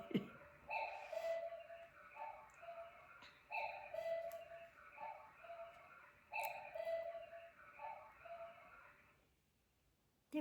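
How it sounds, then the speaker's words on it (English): A cuckoo clock calls in repeated two-note phrases at an even pace, fairly faint, with soft ticking underneath before it falls quiet. "My little cuckoo clock is going."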